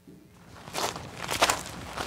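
Footsteps build from quiet to moderately loud, a series of shuffling, scraping steps drawing closer with no talking.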